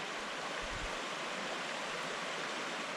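Creek water flows steadily at a rocky stream crossing on Seneca Creek, West Virginia, a constant broadband rush of running water close by with no talking.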